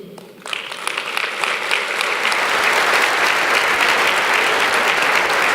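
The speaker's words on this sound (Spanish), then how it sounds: "Sin duda se merecen un aplauso más fuerte." An audience at a national accord launch event bursts into applause, the clapping starting sharply and building into a loud, dense, sustained ovation.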